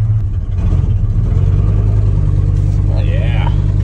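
Old Hammerwagon car engine idling and running loud and close, a deep steady rumble throughout, with voices over it near the end.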